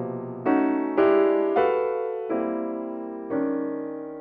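Solo piano plays the first of Schoenberg's Two Piano Pieces, Opus 33, as a series of five sustained dissonant chords struck at uneven intervals, each ringing and decaying before the next; close and clear with no talk.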